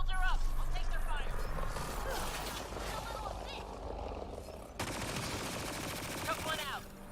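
Enemy gunfire in the sci-fi shooter Mass Effect Andromeda crackles in rapid automatic bursts amid battle noise, with voices talking over the shooting.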